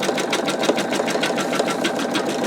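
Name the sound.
embroidery machine stitching a skull design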